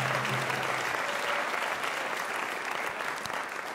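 Audience applause for a jazz band at a concert, a dense, steady clapping from a crowd that holds loud across the whole stretch and eases slightly at the end, with no talking over it.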